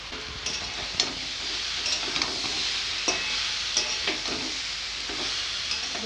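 Flat bean and prawn curry masala sautéing in a pan, a continuous bright sizzle with repeated scraping strokes of a spatula at irregular intervals, close and fairly loud, no talking.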